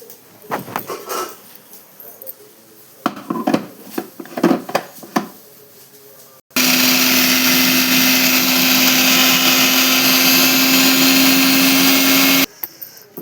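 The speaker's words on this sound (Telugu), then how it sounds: "ఈ పచ్చడి కూడా మనం మిక్సీ వేసుకొని గ్రైండ్ చేసుకున్నాం" Clattering and knocking come first, then a mixer grinder roars steadily for about six seconds as it grinds gongura chutney, loud and close. It cuts off abruptly at the end.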